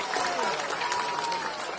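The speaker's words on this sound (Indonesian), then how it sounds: "tepuk tangan buat semuanya" Audience applause at an education talk, a short dense patter of clapping with crowd noise and some voices mixed in.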